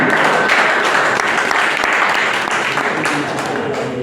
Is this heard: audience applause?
yes